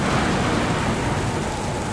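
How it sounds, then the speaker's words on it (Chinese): Rain with rolling thunder as a sound effect in a dramatized Bible reading, a steady dense downpour with a low continuous rumble underneath, loud and unbroken throughout with no voices. "耶和华就在这日打雷降雨"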